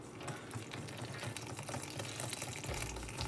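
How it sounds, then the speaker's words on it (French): Liquid ingredients being poured into a bowl of dry ingredients for a vegan recipe, a steady soft watery rush lasting throughout at low level, with no talk. "Vous venez verser votre élément liquide sur votre élément"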